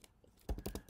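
Computer keyboard typing code, a quick close run of four or five key clicks in about half a second, with no voices.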